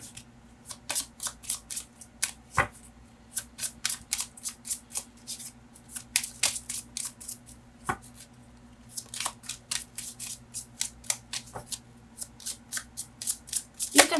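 A deck of cards is riffle-shuffled again and again, crisp rapid flutters in quick bursts with short pauses between, close up, with no talking.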